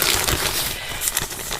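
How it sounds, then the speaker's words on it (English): Plastic bag holding chest-seal supplies crinkles and crushes as it is handled in a close, quiet medical-exam setting, with irregular rustling bursts across the moment and no talk. "I'm going to lift the plastic bag of the goods"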